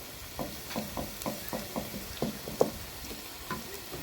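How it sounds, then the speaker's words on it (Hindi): Chopped onions fry in an oiled pan toward a light golden colour while cooking a kebab karahi, giving a steady close sizzle broken by repeated clinks and scrapes of stirring. "3 प्याज हमने ये काट के रखे थे। अब हम इनको गोल्डन कर लेंगे, लाइट गोल्डन।"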